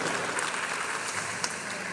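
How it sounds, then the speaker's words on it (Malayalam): Faint, steady audience applause for Jayan Nambiar at a film event, a distant crowd clapping evenly without a break. "ജയൻ നമ്പ്യാരെ ഈ അവസരത്തിൽ നിങ്ങളെല്ലാവരും ഒരുപാട് കൈയടിച്ച് പ്രോത്സാഹിപ്പിക്കണം"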